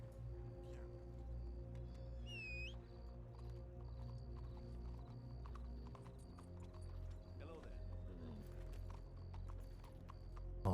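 Horse hooves clip-clopping steadily in the Red Dead roleplay game, close and continuous against a busy game soundscape, with a brief whinny partway through and people talking over it.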